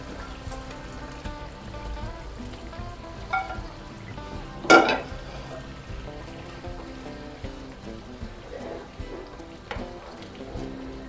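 Blanched okra dropped into boiling masala in a pan and stirred, a quiet bubbling simmer with a sharp clatter around the middle and occasional soft scrapes.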